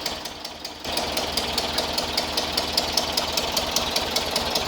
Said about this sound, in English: the clicking that you're hearing is from the lifters